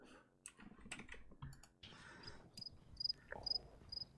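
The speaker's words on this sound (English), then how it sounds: "Crickets." A crickets sound effect gives a few faint, evenly spaced high chirps toward the end, following brief clicking and rustling noises at low volume.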